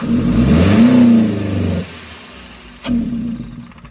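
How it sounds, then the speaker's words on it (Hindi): Toyota pickup engine with a fault that caps it at 3000 RPM, revving up to a strained plateau, dropping off, then blipping again briefly, close and loud with no talk. "गाड़ी स्टार्ट है लेकिन 3000 से ऊपर इसकी RPM नहीं आएंगी"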